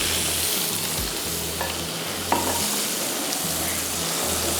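Butter sizzling and frying steadily in a pan while being stirred, a continuous close crackle with a faint low hum beneath, no talking.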